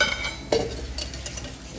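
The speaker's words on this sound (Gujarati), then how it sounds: "જો આ રીતના બરાબર વઘાર ફૂટવા દેવાનો" Dried red chillies and garlic crackle and sizzle in hot oil as a tempering for khichdi, a steady close hiss broken by sharp pops, with a spoon stirring and clinking against the pan.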